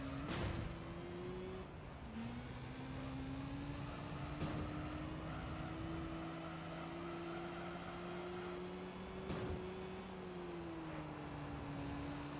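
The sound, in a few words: high-revving car engine in video game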